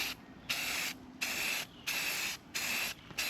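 An aerosol can of spray paint hisses over truck parts from a 25-year-old truck in about five short, close bursts separated by brief pauses.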